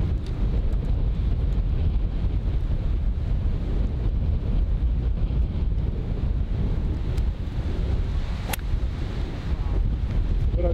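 Strong, steady wind buffets the microphone on an open golf course, a constant low rumbling roar with no voices.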